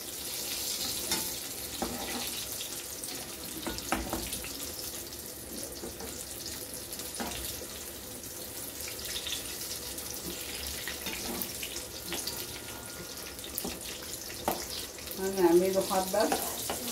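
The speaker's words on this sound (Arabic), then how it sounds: "والبتنجان بتاعنا اهو بدا ان هو يتحمر" Eggplant frying in a pan of oil, a soft continuous sizzle with scattered crackles and a brief stir near the end.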